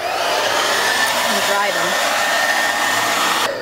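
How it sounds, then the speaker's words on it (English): A handheld hair dryer blows loud and steady for several seconds, a constant broadband rush with a faint whine, while a voice briefly speaks over it. "I was going to attempt to take my hair dryer"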